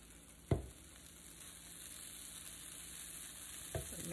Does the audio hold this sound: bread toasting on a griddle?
yes